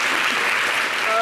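Studio audience applauding on a television variety show, a dense, steady wash of clapping that fills the whole short stretch at close, even loudness.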